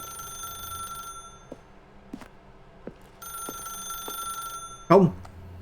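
Telephone ringing in the video game The Stanley Parable: Ultra Deluxe, two long electronic bell rings separated by a pause, with soft clicks in between and a brief voice at the end.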